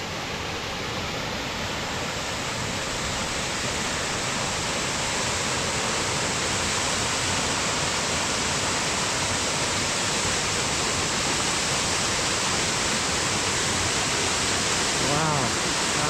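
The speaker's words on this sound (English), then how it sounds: "Another gorgeous waterfall in Olympic National Forest." A waterfall in Olympic National Forest roars in a dense, unbroken wash of falling water, loud and close, steady throughout with no pauses.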